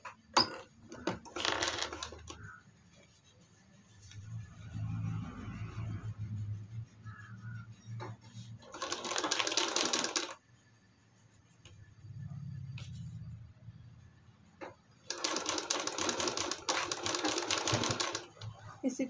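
A sewing machine stitches the folded hem of a kurti, running in three loud bursts separated by quieter pauses with low handling noise and faint talk.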